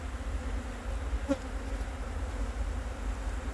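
Honey bees hum in a low, steady drone, a busy hive buzzing continuously and close by, with no talking.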